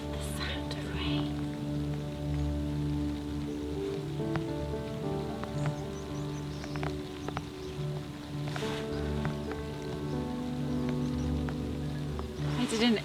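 Light winter rain in Portugal falling on outdoor surfaces, a soft, steady patter with scattered nearby drips and a low background hum throughout.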